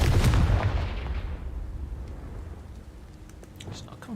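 A Confringo blasting spell explodes in Hogwarts Legacy, a loud booming burst at the start whose rumble fades over a couple of seconds, followed by quieter game ambience.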